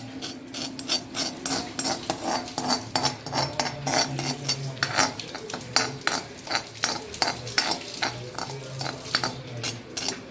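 Onion and coconut roast in a pan for a Konkan-style masala paste, with a spatula scraping and stirring in a quick, continuous rhythm over a low sizzle, close and fairly loud.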